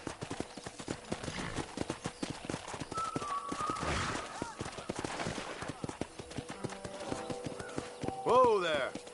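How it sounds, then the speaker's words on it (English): Horse hooves clip-clop steadily at a trot or gallop in the Red Dead Redemption video game, close and continuous, with a brief whinny near the end and someone talking over the riding. "I picked out a fine horse for you. Giddy up!"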